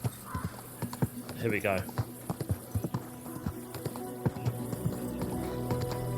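Horse hooves clip-clop at a steady walking rhythm in Kingdom Come Deliverance 2, close and clear, with a brief whinny partway through and someone talking over the footsteps.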